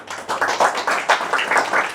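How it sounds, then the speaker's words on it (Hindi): An audience at a Hindi poetry and shayari event claps for itself, a brisk run of distinct hand claps at close range, uneven in rhythm and steady in loudness, with no voices over it. "आप सभी लोग अपने लिए तालियां बजा दीजिए"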